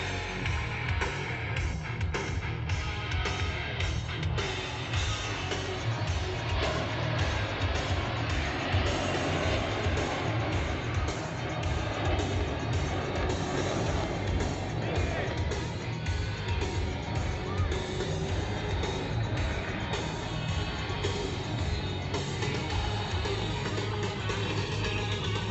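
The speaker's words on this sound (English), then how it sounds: "if you think this jet sounds louder than, say, the Super Hornet a little earlier today" An F-35A Lightning II jet flying past during an airshow handling display on the Gold Coast, Australia, heard as a loud, continuous, broad engine roar that holds steady for the whole stretch.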